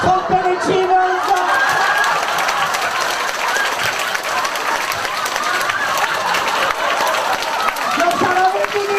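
An audience at a seminar clapping hands together, a loud continuous patter of many hands mixed with voices and shouts from the crowd.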